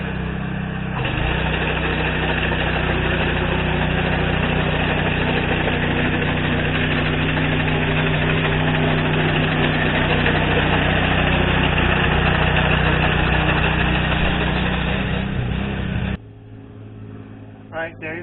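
A Honda GX200 small engine on a core aerator runs steadily and loudly for most of the clip with a droning, buzzing tone, then cuts off abruptly near the end, leaving only a few faint knocks.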